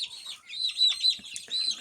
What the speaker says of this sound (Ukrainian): Курчатка тут різні у нас